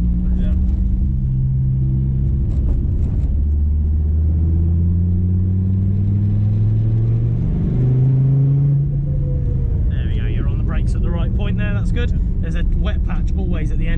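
A Dodge Viper SRT driven hard on a race track at the limit of grip, its engine droning low and rising through the revs, with tyre noise near the end and people talking in the cabin.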